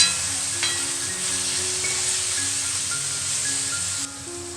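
Onion-tomato gravy sautés in oil for chicken sukka, a soft continuous sizzle and hiss held at an even level with faint stirring, dropping slightly toward the end.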